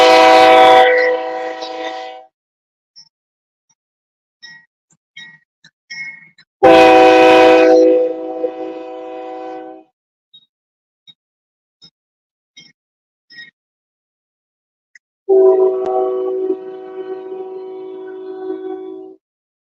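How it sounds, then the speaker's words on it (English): Freight train pulled by several locomotives passing by, sounding three long, loud horn blasts separated by quieter gaps with faint rail noise. "This one's got several locomotives on it"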